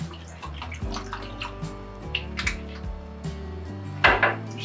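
Worcestershire sauce and lager beer poured into a cooking pan, with a liquid splashing and gurgling under clinks of metal and utensils, close and moderately loud, ending in a brief louder clatter.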